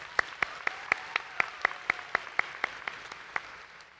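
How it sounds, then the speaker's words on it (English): At a state Grange convention session, faint, rhythmic hand claps tap out a steady beat for the sponsors. The claps are few and quiet, heard as a light ovation that trails off. "Let's give them one more round of applause."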